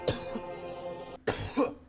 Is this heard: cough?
yes